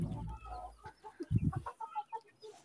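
Chickens kept on a home balcony cluck in short, irregular bursts nearby, with one louder throaty squawk partway through and quieter clucking continuing after it.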